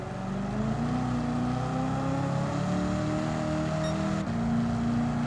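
A race car engine in Gran Turismo 7, a gas guzzler in a WTC700 race at Le Sarthe, drones loudly and steadily at sustained revs, its pitch sliding slowly upward before a brief dip and recovery near the end.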